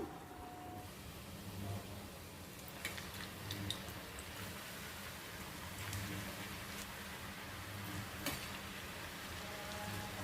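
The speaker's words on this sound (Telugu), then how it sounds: "ఈ ఆయిల్లో ఇలా వేసేయడమేను" Tomato murukulu dough fries in hot oil, giving a steady, soft bubbling sizzle with faint crackles and occasional light ticks, no voices.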